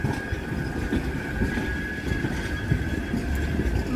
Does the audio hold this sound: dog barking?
no